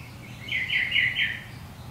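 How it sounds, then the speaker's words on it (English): A short burst of bird chirps rings out outdoors, four quick bright calls in a row, moderately close over a quiet background. "I'll listen to the birds."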